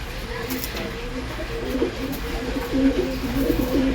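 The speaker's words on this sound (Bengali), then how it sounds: "এই যে পায়রাগুলোকে এবার সব ঢুকিয়ে দেবো।" Pigeons coo in low, rolling, repeated calls as they go back into their loft. The cooing sits under a steady background hum and grows slightly fuller toward the end.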